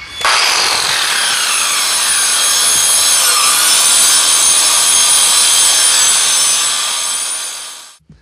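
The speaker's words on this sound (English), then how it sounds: "We're just gonna start cutting it out. And it's better to use circular saw than jigsaw." A circular saw cuts a curved piece out of wood for a jet boat build, a loud, steady, continuous whine that runs the whole time with no talk, then stops abruptly.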